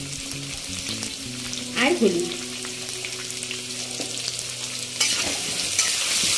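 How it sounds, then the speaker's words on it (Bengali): Large potato pieces salted and sizzling in hot oil in a pan, a steady frying hiss with occasional stirring scrapes, fairly close, with brief background speech. "এবার আলুগুলোকে একটু লাল লাল করে ভালোভাবে ভেজে নিতে হবে।"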